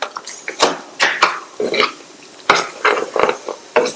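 A ladle stirs chickpea gravy in a cooking pot, making a close series of clanks and scrapes against the metal in irregular bursts, with wet squelching between the strokes.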